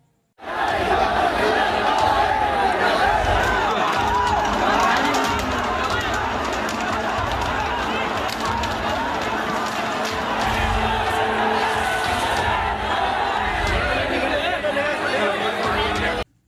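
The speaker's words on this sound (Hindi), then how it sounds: "आइए अब आपको दिखाते हैं वो भीड़ जो ज्ञापन देने के लिए डीएम कार्यालय की तरफ जा रही थी" A large crowd marches toward the DM office to hand over a memorandum, police trying to stop it, producing a loud, continuous roar of chatter, shouting and footsteps throughout.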